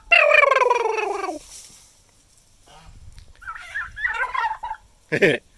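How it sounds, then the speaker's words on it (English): A Royal Palm turkey tom lets out a loud, rapid warbling gobble, followed by quieter rustling and a few short bird calls nearby. "He's the Tom, and he makes gobble gobble sounds"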